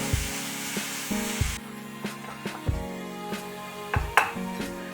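A spoon stirs salt into capsicum masala in a pan over a low flame, making a soft sizzle with repeated scraping and clinking strokes against the pan.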